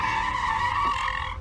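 A car braking hard with its tires skidding, a loud, sustained screech right up close that holds for over a second before cutting off abruptly.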